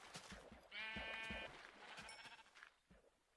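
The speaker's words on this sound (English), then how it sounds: "come here, sheep." A single drawn-out sheep bleat from the Minecraft video game, close and clear, amid soft game sounds and footsteps, with no talking.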